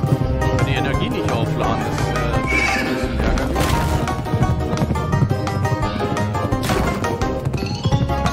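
A horse neighs and whinnies repeatedly over steady clip-clopping hooves while riding in the Pumpkin Jack video game, loud and continuous throughout.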